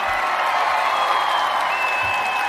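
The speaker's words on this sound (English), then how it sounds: "let's give Nutty a huge round of applause" Audience applause after a call for a big round for a performer at a live show, a steady broadband wash of clapping with a faint high electronic tone running through it.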